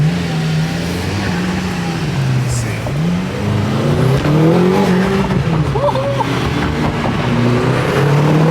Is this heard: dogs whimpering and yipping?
no